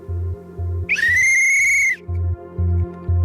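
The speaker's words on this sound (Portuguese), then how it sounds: "como se fosse um barulho de um apito" Whistle-like tone reported by witnesses, a single loud high sustained whistle lasting about a second with a slight rising onset, set against a rhythmic pulsing low hum that stops beneath it and then resumes.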